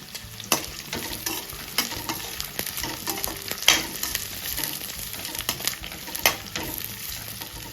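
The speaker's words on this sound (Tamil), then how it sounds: "வெங்காயம் வந்து ரொம்ப சிவக்கெல்லாம் வாங்கியிருக்காரு" Onions sauté in a pan for idly manchurian, a soft, continuous sizzle with scattered clicks and scrapes of stirring, fairly quiet and steady with no talking.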